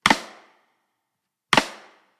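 Two sharp clap-like hits from an acoustic snare drum, each played as a flam combined with a rim shot to imitate an electronic clap, struck alone about a second and a half apart with short decaying tails.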